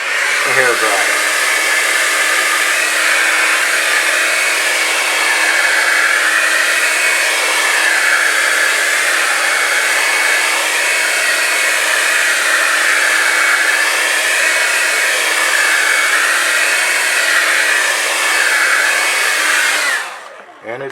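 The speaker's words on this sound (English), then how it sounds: "And the hair dryer." A hair dryer blows loudly and steadily with a constant whooshing hum while drying a photopolymer plate for photogravure, then clicks off at the end.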